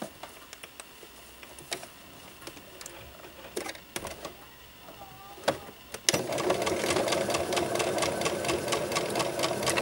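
Scattered clicks and handling sounds come first, then a sewing machine starts up with a steady, close, rapid mechanical whir and chatter as it stitches closed a small opening in fabric bloomers.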